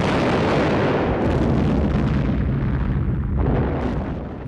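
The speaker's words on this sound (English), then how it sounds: "Fixed emplacements and sporadic artillery duels." Rumbling artillery fire from a Second World War setting: a dense, heavy boom that rolls continuously and loudly for several seconds before fading slightly at the end.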